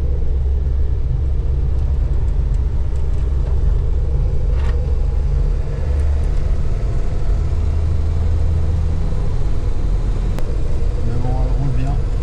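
A Renault 4L drives along in a steady, loud engine and road rumble that continues unbroken throughout.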